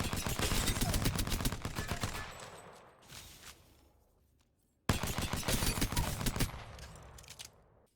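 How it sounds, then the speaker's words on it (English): The Care Package P2020 pistol in Apex Legends fires in a fast, dense volley of close shots, trails off into a short lull, then resumes with another rapid burst that fades toward the end. "Let's see how it stacks up against the next gun, the Care Package P2020"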